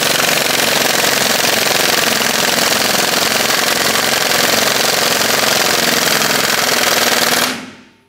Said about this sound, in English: I'm going to switch over to an air tool and drive this thing home.